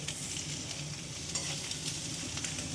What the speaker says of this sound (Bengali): এটা আজকে মা বানাচ্ছে পনির এগ ফ্রাইড রাইস।